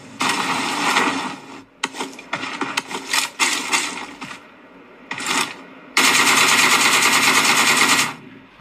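Mobile video game gunshots played through Galaxy S23 Ultra phone speakers, rapid bursts of automatic fire broken by short pauses, ending in a long sustained burst, loud and close with no talking.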